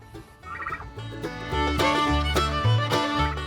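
A turkey gobbles repeatedly with rapid, rattling calls, close by, with other farm birds clucking faintly in the background.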